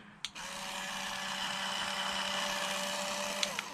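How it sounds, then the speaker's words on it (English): A MECO ELEVERDE electric hand scrubber runs steadily with a continuous motorized whir, starting with a short click and holding an even, close hum for several seconds before stopping. "MECO also made this hand scrubber machine."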